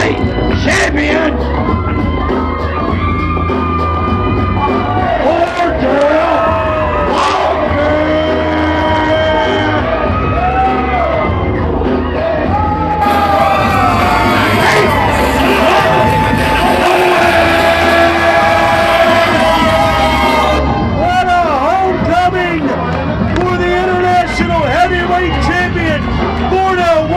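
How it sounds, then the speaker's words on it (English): A wrestling arena crowd at an NWA show roars and cheers continuously as the international heavyweight champion comes to the ring, with whoops and shouting rising into a louder peak midway, dense and close throughout. "Will you hear the crowd"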